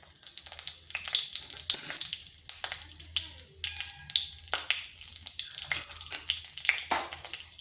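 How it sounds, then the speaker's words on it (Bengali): Dried red chillies and black cumin sizzle steadily in hot oil in a kadai, a continuous crackling fry with bursts of spattering, close and fairly loud, with no voices. "এখানে কড়াইতে তেল দিচ্ছি। ফোড়নে দিচ্ছি 2টো শুকনো লঙ্কা"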